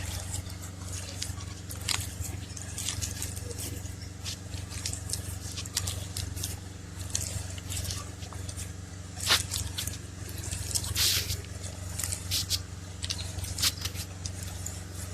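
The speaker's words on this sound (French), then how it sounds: "maintenant il faut mélanger avec la main" Sweet potato fritter dough is worked and mixed by hand, giving soft, quiet squishing and wet scraping sounds with occasional sharper sticky clicks, close up and with no talking.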